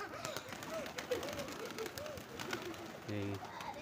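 Soft, repeated cooing of pigeons, low rolling calls at a moderate distance over a quiet background with faint voices.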